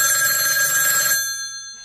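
A telephone rings with a bright, steady electronic ringtone that sounds loud and close, then cuts off abruptly and trails away.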